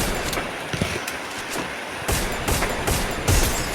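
Gunfire in the Free Fire mobile game crackles in quick bursts, with several sharp shots over a constant noisy background, loud and close.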